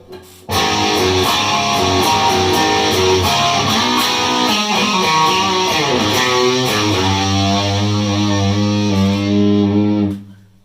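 A loud, sustained electric guitar played through a BOSS distortion pedal, heavy distortion on chords and riffs for about ten seconds, then cuts off abruptly.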